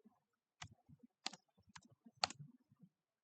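Typing on a computer keyboard in a quiet room, a handful of isolated sharp key clicks with short gaps and softer taps between, close and fairly faint, no talk.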